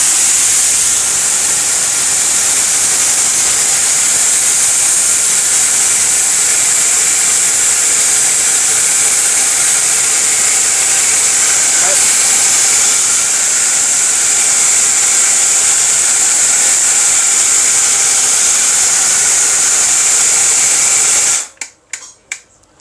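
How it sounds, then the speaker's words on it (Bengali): A Miyako blender grinds whole rice into powder with a loud, steady high-pitched motor whine and gritty roar that runs unbroken for about twenty seconds, then cuts off abruptly with a few brief rattles. "মাত্র 10 সেকেন্ডে এই চাল আজকে গুঁড়ো করে দেখাবো একবারে।"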